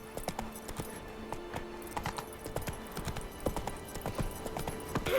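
A horse gallops in The Witcher 3, its quick hoofbeats drumming in a steady rhythm, loud and close, for several seconds.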